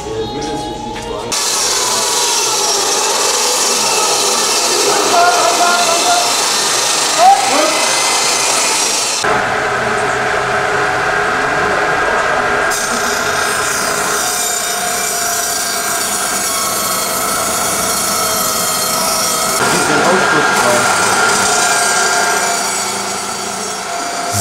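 Large handheld power tools saw and mill heavy wooden beams while building a great catapult at a medieval festival, giving a continuous loud grinding, rasping roar with shifting pitch throughout, no speech heard.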